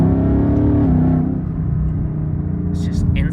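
A manual Ford Mustang GT engine roars steadily under acceleration and then its pitch drops as it upshifts, with a continuous low rumble throughout and a brief faint chirp near the end.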